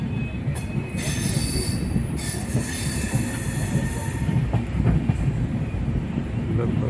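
Mahananda Express pulling out of Siliguri Junction behind a diesel locomotive from the Siliguri loco shed, running in reverse mode: a steady low rumble of rolling wagons with shrill wheel squeals rising and fading over it, close and continuous.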